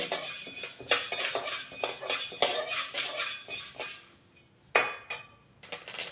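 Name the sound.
fenugreek seeds being roasted in a pan on low flame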